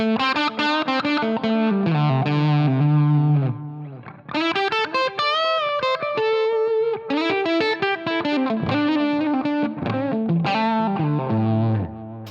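A distorted electric guitar through a Brit Plexi amp model on a Line 6 POD Go plays chugging chords and sustained notes with a crunchy tone, loud and close, pausing briefly between phrases.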